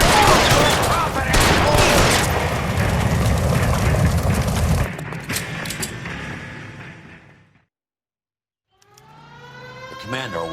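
Dense, loud gunfire and shouting from a shootout with police in L.A. Noire, with voices over the shots, trailing off into near silence before a short final tonal passage.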